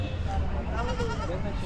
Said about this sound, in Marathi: इकडं शेळ्या पण आहेत बघा.